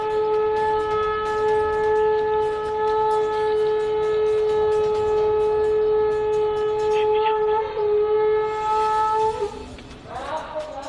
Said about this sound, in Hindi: पीछे से शंख की आवाज सुनाई देती रही।